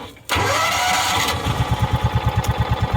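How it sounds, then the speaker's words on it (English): Derelict John Deere Gator utility vehicle engine cranks and catches with a sudden roar, then settles into a fast, loping chug of rhythmic pulses, close and loud. "Don't mind me just going through the startup procedure on my Gator."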